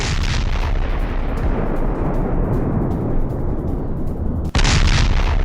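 Explosions from an attack on a Russian T-90M tank convoy near Luhansk in war footage: heavy, close booming blasts with rumbling low-end and debris, a loud continuous barrage punctuated by a sharp new blast near the end.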